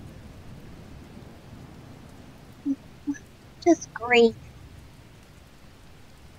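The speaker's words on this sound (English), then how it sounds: "It begins to rain." A rain sound effect in a Pokémon Mystery Dungeon tabletop campaign gives a faint, steady hiss throughout, while a voice briefly speaks over it near the middle.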